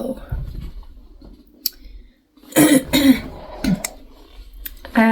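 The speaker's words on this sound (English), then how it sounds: "I have this lingering like cough." A lingering cough after a bad illness comes as a few sharp, close coughs and throat-clearing sounds, separated by quiet pauses, with a faint voice in the background.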